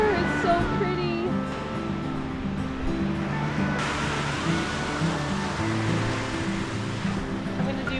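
Ocean surf washes steadily onto a sandy beach, a continuous close wash of breaking water with rolling low rumble throughout, and a soft voice faintly present beneath it.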